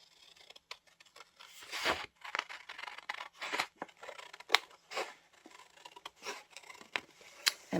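Scissors snipping through paper for a faith journal, a run of quick close crisp cuts in irregular bursts with short pauses between.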